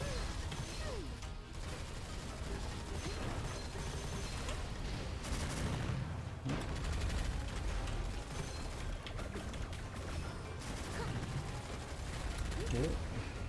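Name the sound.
firing shells in the video game Gunfire Reborn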